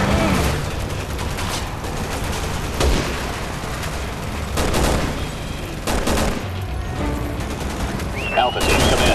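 Resident Evil 6 gunfire pops out as rapid bursts and scattered booming shots over a dense, loud battle din, with shouted radio-style voices mixed in.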